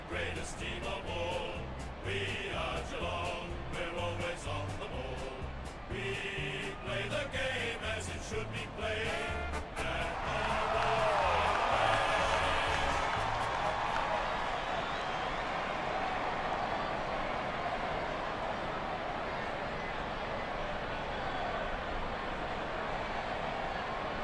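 Crowd noise at a football stadium in AFL Evolution 2018, a broad, steady roar of cheering that swells louder about halfway through and holds, following an earlier stretch with music and commentary.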